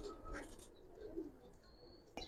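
Old-breed Giribaz pigeons in an Old Dhaka loft coo softly in low rounded phrases, with faint chirps and a sharp knock near the end, moderately close.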